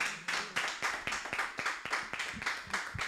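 Steady rhythmic clapping from a church congregation at a Sunday service, many hands beating together in a regular pulse for a few seconds.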